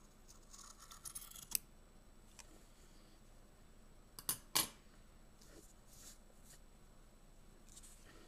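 Sharp sewing scissors cut across a knitted yarn panel, giving a few crisp, quiet snips at scattered moments between long stretches of near silence.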